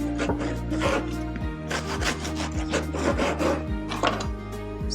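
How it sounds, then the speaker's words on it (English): Knife sawing through a freshly baked gluten-free no-knead loaf, steady rhythmic back-and-forth rasping strokes, close and loud, with crusty scraping over a continuous low hum and no talking. "cut a few slices"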